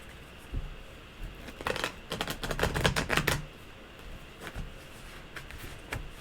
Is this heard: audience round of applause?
no